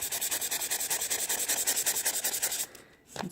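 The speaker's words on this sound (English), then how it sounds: "just take you some sandpaper and you can just sand it right off of there" Sandpaper rubbed briskly back and forth over a wooden board strips off a transferred pyrography template, a steady rhythmic rasp of close strokes that stops near the end, with no speech.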